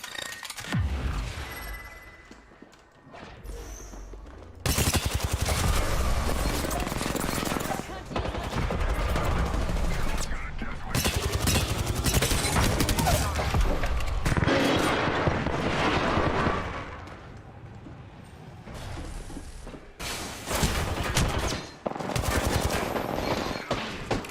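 Apex Legends arena gunfire, including a Flatline rifle, pours out in loud, dense automatic bursts broken by brief pauses. It stays heavy and continuous for most of the stretch, with occasional faint voice fragments underneath.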